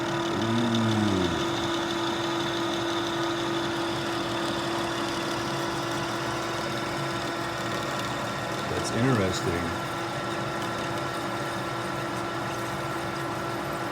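A metal lathe turning a copper hex-shaped brick game piece, a steady mid-pitched machining hum running throughout with a brief tonal swell near the middle, while a person speaks quietly.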